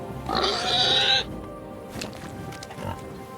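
A pig oinks in the video game Kingdom Come: Deliverance II, a loud burst of grunting squeals near the start, followed by fainter snorts over quiet ambience.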